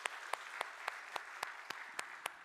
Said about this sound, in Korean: 우리 수고하는 분들에게 박수 한번 하시죠.